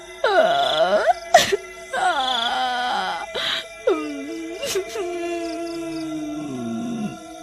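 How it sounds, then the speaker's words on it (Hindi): A drawn-out, eerie wailing moan rises and falls in several long swooping cries, loud and close, like someone weeping in a dark forest at midnight, used as a spooky story effect. "आधी रात होने पर जंगल से किसी के रोने की आवाज"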